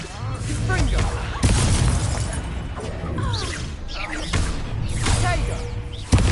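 In Hogwarts Legacy, the fiery Confringo blasting spell goes off repeatedly in bursts of shattering, crackling impact with brief whooshes between them, under a player's voice calling out spells.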